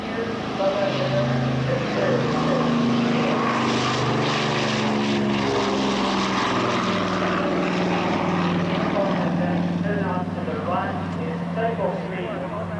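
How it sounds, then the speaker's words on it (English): A British Douglas DC-4 propeller airliner built in 1947 drones past nearby with a steady, loud engine roar, lowering gear and flaps as it goes by, while people talk over it. "It's going to go past us and extend the gear and flaps as they go by"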